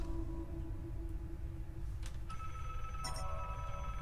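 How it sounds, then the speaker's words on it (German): A telephone bell rings in the horror video game Desolate, with bright metallic trills starting partway through over a steady low background hum, fairly quiet overall. "Na toll, ein Telefon klingelt."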